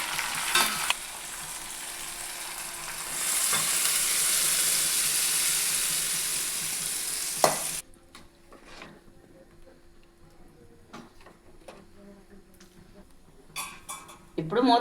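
Tomato with mustard seeds, fenugreek, green chili and curry leaves sizzles loudly in a curry pan for brinjal curry, a steady hiss for about seven seconds, then dropping to a quieter simmer with scattered clicks and light taps.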